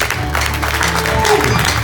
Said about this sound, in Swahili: Patia Bwana makofi.